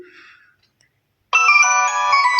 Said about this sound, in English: that's a pretty cool ringtone.